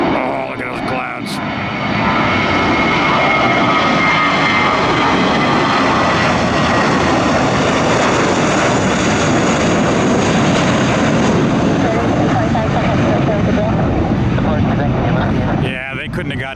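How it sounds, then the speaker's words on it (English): Airbus A320 jet taking off in heavy rain, a loud, sustained broadband engine roar that swells in after a moment and holds steady before tapering near the end, with people talking over it. "Oh, world's fastest A320 takeoff."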